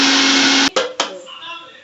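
An electric mixer grinder whirs steadily at high speed while grinding a spice paste with a little water for egg curry, then cuts off abruptly, followed by two short restarting bursts and quiet clatter.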